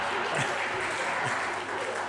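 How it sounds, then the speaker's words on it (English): Audience clapping at a church's old-time music hall evening, a faint, steady patter of applause that stays even and fairly distant through the whole short stretch, with no voices standing out above it. "It's time for you to clap now, Mark."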